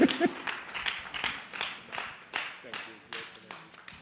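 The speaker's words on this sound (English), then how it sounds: "can we give a round of applause to His Excellency Mr. Peter Gregory Obi?" Faint, loosely rhythmic clapping from the crowd at a town hall meeting in Canada greets the keynote speaker, heard at a distance with voices mixed in.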